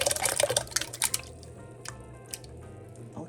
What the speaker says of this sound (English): I'm going to dump my dry gungo with the water.